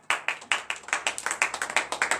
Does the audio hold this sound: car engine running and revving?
no